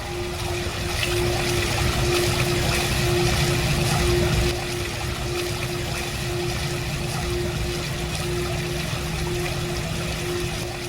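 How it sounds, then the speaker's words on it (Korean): Continuous rushing, splashing water pours steadily from an artificial waterfall, with a broad hiss that eases slightly partway through. "인조, 인공 폭포지만. 그래서 이렇게 물소리 듣다가"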